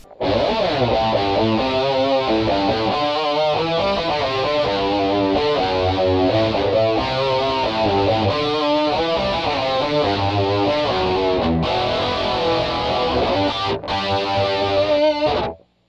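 An electric guitar plays through a G.O.A.T. Generator distortion pedal, a stompbox modeled on the Rockman distortion generator, giving a loud, compressed, saturated tone with chorus-like shimmer across a continuous riff of chords and notes that cuts off abruptly.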